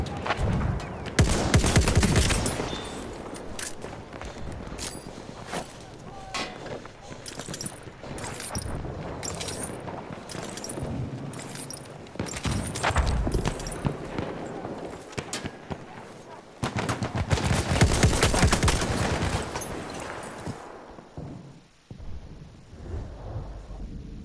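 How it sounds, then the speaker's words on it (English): Video game battle with dense machine-gun bursts and heavy gunfire rumbling almost continuously, loud and close with booming explosions, easing off near the end; voices call out beneath the shooting. "There's a machine gun."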